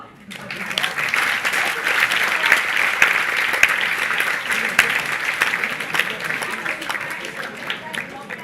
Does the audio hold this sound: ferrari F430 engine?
no